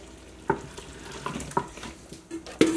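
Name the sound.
stirring chicken with spices in Instant Pot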